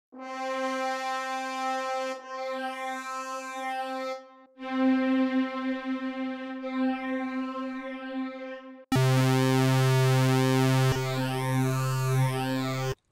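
Phaser effect demonstrated on sustained tones: several held notes with sweeping, swirling notches that rise and fall repeatedly, the last louder and brighter, no voices.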